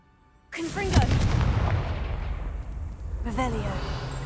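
A Confringo blasting spell in Hogwarts Legacy erupts in a sudden loud, close explosion that rumbles on with crackling debris, then a second blast hits near the end, with game voices faintly mixed in.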